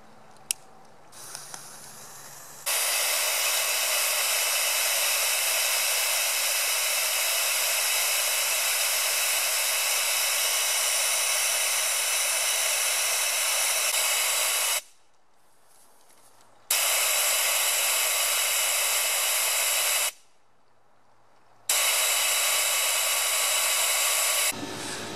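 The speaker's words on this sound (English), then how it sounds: "So I'm just gonna light a smoke bomb and show you how easily it sucks the smoke in the front." A smoke bomb hisses steadily and loudly right beside the intake of a small homemade rotorless turbojet, with two brief dropouts partway through where the rushing noise cuts out and then resumes.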